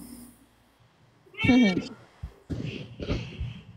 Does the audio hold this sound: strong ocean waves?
no